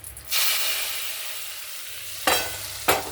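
Leftover fish-frying oil poured into a hot pan hisses and sizzles loudly, with a bright burst at the start settling into a steady frying hiss, then two sharper flare-ups near the end, with no voices.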